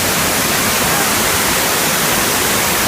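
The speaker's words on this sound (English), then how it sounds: "the waterfall is right there" The Sri Gethuk waterfall in Jogja roars nearby as a dense, unbroken hiss of falling water, loud and constant with no voices.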